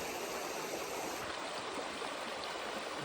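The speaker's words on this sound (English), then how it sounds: "So I just came down to the creek here, just taking a break for a few minutes." A creek in wilderness flows steadily, with a continuous close rushing and gurgling of water and no voices.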